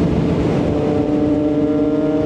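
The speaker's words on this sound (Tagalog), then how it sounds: "Ganda talaga ng tambucho ni Bro Jack" A Triumph motorcycle exhaust drones steadily during a ride, a close, continuous engine hum with wind noise and no gaps.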